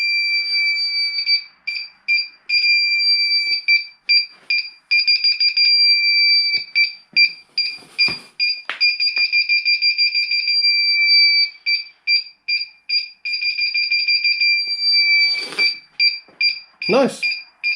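A DIY-installed reversing parking sensor beeper on a Corsa C sounds loud and close, giving rapid repeated high beeps in bursts that shift to a continuous tone, with some handling knocks and a person speaking briefly.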